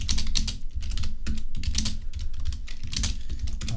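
Computer keyboard keys pressed rapidly while coding a Java game, a close, steady run of clicky keystrokes with no talking.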